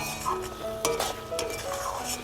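Chicken with spices being sautéed in a pot for a Bengali chicken curry, a soft sizzle under scraping and clinking stirring strokes that recur every half second or so.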